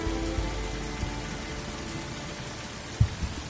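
Steady rain falls in the video game Unravel, a continuous dense hiss across the whole stretch with a couple of soft low thumps near the end and no talking.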